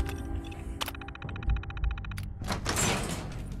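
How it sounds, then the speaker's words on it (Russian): A door opening in Fallout 4: a mechanical whir and rapid clicking ratchet, followed by a heavy clunk and a whooshing slide, loud and close. "Открыть дверь"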